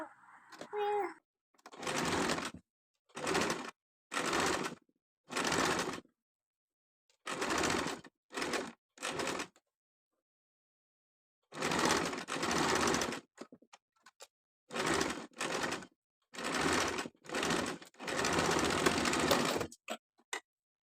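A sewing machine runs in repeated bursts, stitching sleeves onto a simple frock, with short pauses between stretches of stitching and a longer run near the end; close and fairly loud, with no talking over it.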